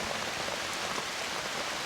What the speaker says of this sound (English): Are we all right with this rain?